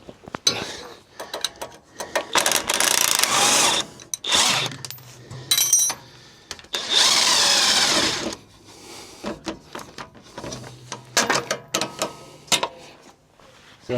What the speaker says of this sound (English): I need a 18 spanner on the back.